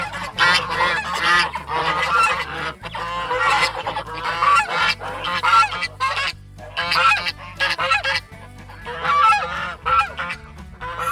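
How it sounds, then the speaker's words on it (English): A flock of farm geese honking loudly and continuously, many overlapping calls in a dense, noisy chorus close by, with no talk. "So the goose flock is doing really good."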